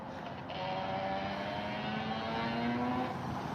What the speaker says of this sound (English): Oh, I think it's an e-bike.